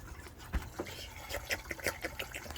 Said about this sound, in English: Oh, it's dripping.